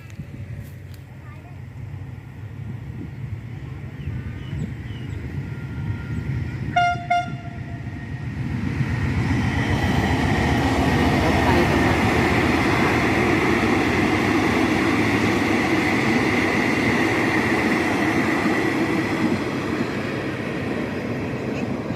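A train runs along a railway line beside an organic rice paddy in rural Thailand. A short horn toot comes first, then a loud, steady rumble builds and holds to the end, while a voice is heard near the start.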